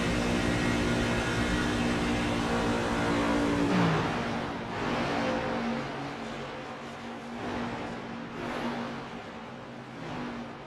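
Onboard race truck engine on the backstretch at Chicagoland, a loud, steady high drone that holds, then dips and rises through shifts and lifts, with no speech over it.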